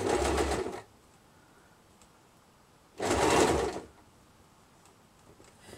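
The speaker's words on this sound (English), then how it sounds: "Needle in, 2 stitches forward, a couple of stitches back, and then start to follow the line, the edge." Sewing machine stitching fabric doll accessories, running in two short bursts of about a second each with quiet pauses between, a steady close whirring hum.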